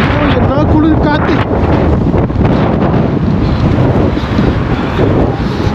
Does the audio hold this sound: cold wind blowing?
yes